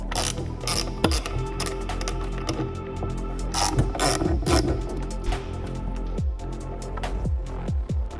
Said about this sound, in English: For these bolts, we're gonna use 50 with this ratchet.